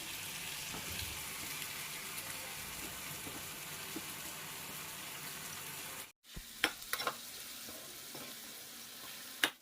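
Duck meat frying with ginger garlic paste in an oily pan, a steady close hiss that briefly cuts out, then returns with a few sharp clicks of stirring.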